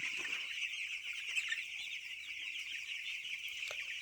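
Broiler chickens cluck softly at night in a cold farm shed, crowded under the feed hoppers, making low scattered calls over a steady high hiss of background noise.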